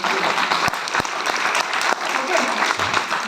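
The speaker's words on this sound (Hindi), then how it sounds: "तो जोरदार तालियां होनी चाहिए।" Hearty applause from an audience at a probiotic product presentation, continuous clapping with a few sharp, distinct claps standing out and some voices underneath.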